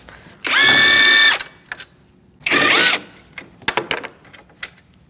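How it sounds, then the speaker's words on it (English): A 10mm socket on a powered ratchet or driver removes radiator bolts on a 2008-2014 Mercedes-Benz C300. Two loud, close whirring bursts come about a second apart, followed by quieter scattered metallic clicks and knocks. "Using a 10mm socket, we're going to remove these bolts."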